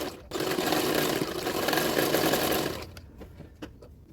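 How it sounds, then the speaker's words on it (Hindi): A sewing machine runs in a continuous close whirring burst, stitching extra fabric onto the neck of a katori blouse, then stops, leaving a few soft clicks and handling sounds. "एक्स्ट्रा फैब्रिक में सिलाई कर रही हूँ"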